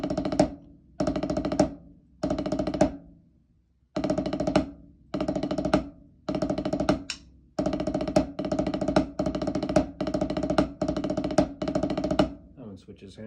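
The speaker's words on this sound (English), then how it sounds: "A 9-stroke roll sounds like this." Snare drum rolls in the nine-stroke rudiment: longer rapid bursts each capped by an accent, first spaced with rests and then run back to back, loud and near, with a few words spoken at the close.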